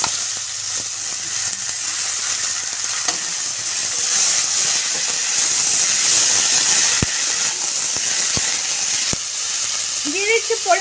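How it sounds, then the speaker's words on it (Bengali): Chopped banana flower fries in a hot pan with a loud, continuous sizzle and hiss from start to end, broken by a few faint stirring taps. A voice is heard briefly near the end. "আমি মোচাটা একটু ভেজে নেব।"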